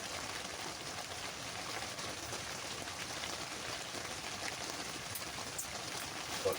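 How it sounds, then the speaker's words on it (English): Soft, steady rain patters on a tent nearby, a constant faint hiss with occasional sharper drips. "just looking around and listening to the rain"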